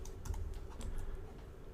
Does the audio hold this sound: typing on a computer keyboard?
yes